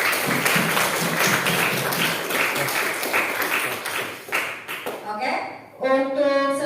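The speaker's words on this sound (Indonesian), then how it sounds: "Beri aplaus untuk semuanya" A class of students applauds the student groups after their presentations, with broadband clapping filling the room before fading, followed by a short ringing tone near the end.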